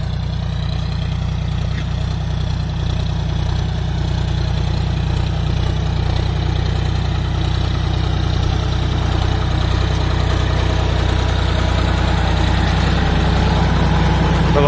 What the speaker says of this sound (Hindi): तो ये देख सकते हैं आप अपनी साइड जॉनडियर ट्रैक्टर आता हुआ